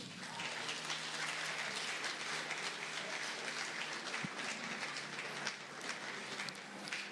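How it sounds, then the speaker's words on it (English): Sustained, dense audience applause rolls through a large hall as the guest of honor enters at an industry and commerce indaba, steady and broad throughout without a break. "Round of applause, ladies and gentlemen."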